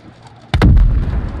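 A single shot fired at the player in a video game: one sudden, loud blast that breaks the quiet and then rolls into a sustained low rumble.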